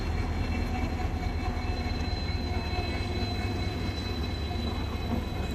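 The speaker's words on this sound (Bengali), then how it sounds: "আমাদের ট্রেন ঢুকছে 21 নম্বর প্ল্যাটফর্মে।" A train pulls into a platform at a busy Indian railway station with a continuous heavy rumble and faint wheel squeal, loud and steady throughout.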